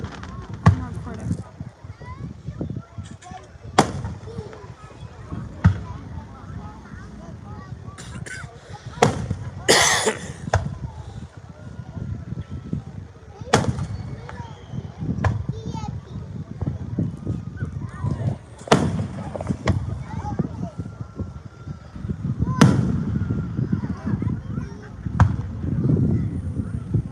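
Fireworks going off at a distance at a public display, with sharp isolated bangs spaced several seconds apart over a steady outdoor crowd murmur, and people talking nearby.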